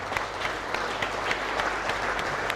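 Audience clapping at a farming event in honour of the magazine Landbou Weekblad, a short steady patter of many hands with a few sharper claps standing out.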